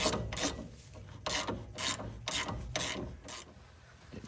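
Rapid ratcheting clicks from a wrench tightening a suspension bolt on an Infiniti G35 fitted with BC Racing coilovers, in a run of about eight evenly spaced, close bursts with a faint mechanical hum underneath.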